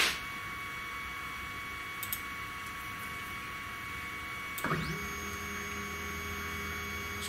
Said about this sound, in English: this 300-watt spindle or router motor